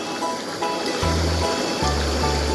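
Inflatable M-Spa hot tub bubbling: a continuous rushing, frothy wash of water with a low pump hum that steps up partway through, steady and close, with no voices.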